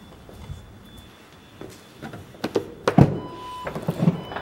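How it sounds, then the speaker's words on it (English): Power liftgate on a 2014 Porsche Cayenne S Hybrid closing: a soft mechanical hum followed by a few dull thunks and a solid latch thud near the end, close by with no talking. "Power liftgate."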